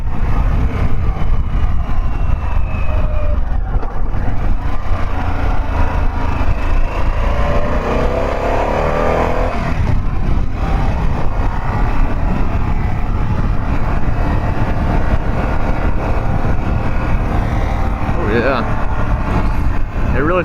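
A 2022 Harley-Davidson Pan America motorcycle engine on the road near Raleigh, North Carolina, droning loudly and steadily with rising and falling revs under heavy wind rush, while the rider talks over it.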